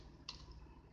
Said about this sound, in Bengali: এন্টার চাপ দেব।